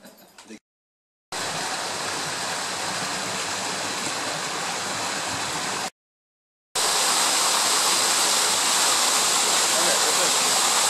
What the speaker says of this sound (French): c'est cette source que nous venons de voir et la cascade qui alimente la palmeraie de Chebika